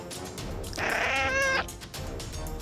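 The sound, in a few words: cat meowing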